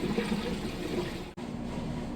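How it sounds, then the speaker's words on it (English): A Maytag Bravos XL washer drains soapy water during its spin cycle: a steady rushing, gurgling flow with a low mechanical hum and a brief dip partway through, moderately loud and continuous. "ramping up in that wash spin, where it is extracting out the soapy water"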